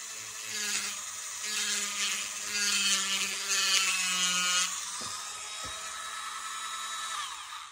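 Power rotary tool sanding a small wooden seahorse carving, a high whining buzz that rises and falls in pitch over several seconds before cutting out, with faint clicks and no talk.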